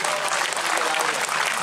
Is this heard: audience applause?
yes